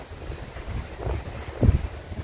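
Seaside wind on a Thai island, Koh Chang, buffets the microphone as quiet low rumbling gusts, with two louder bursts toward the end and no talking.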